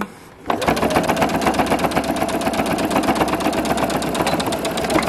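A sewing machine top stitches around a round zip bag, running steadily and fast with a continuous rapid mechanical chatter after a brief quiet start, close and loud.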